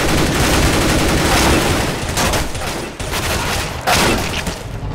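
Rapid, loud gunfire from a CS:GO deathmatch match, heard as dense, overlapping bursts that run almost unbroken through the whole stretch, with brief dips before the shooting surges again.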